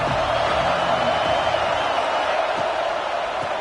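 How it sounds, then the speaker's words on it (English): A huge football stadium crowd at Happy Valley roars on third down, a dense, steady wall of distant noise with no breaks and no nearby talking. "Here comes the noise from this big crowd in Happy Valley on third down"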